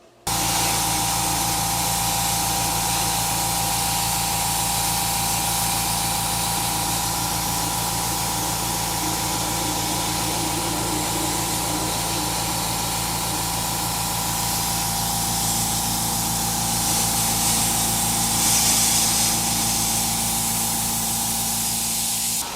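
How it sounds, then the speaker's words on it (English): A truck skid plate is sandblasted in a blast cabinet: a loud, continuous hiss of blasting grit fills the space, with a steady mechanical hum underneath and no pauses throughout. "The skid plate is getting sandblasted way easier than I thought it would."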